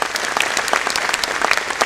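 An audience claps steadily at a student felicitation ceremony, a dense, even patter of many hands at moderate loudness with no voices over it.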